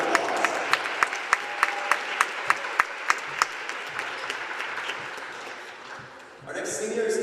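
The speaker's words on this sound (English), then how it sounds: "Please join us in giving Trey a huge round of applause." Crowd applause at a men's college basketball senior night in a gym, with a few sharp rhythmic claps standing out over a broad wash of clapping and cheering, a voice speaking over it near the end.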